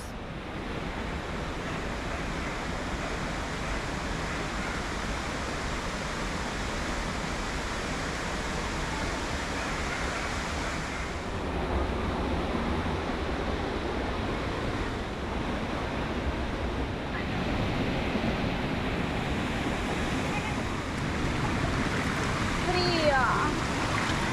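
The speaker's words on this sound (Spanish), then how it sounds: "No es una cascada profunda." A shallow waterfall in Minca, Colombia roars steadily, a broad dense wash of rushing water with wind buffeting the microphone at times.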